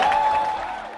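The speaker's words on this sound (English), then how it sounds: "he walked off stage with a huge applause" Broadband clapping from a crowd at a video game press event, steady and dense across the whole second, fading slightly toward the end, with a faint tone lingering underneath.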